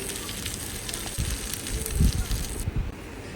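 Tomatoes and green chillies fry for a pickle, a steady loud sizzle and crackle running throughout, with bursts of spattering and light clatter close by.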